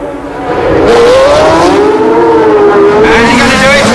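Racing cars with Cosworth Ford V8 engines scream close by, revving up to 11,000 rpm in a loud, continuous high-pitched wail that rises and falls as they race side by side on a street circuit.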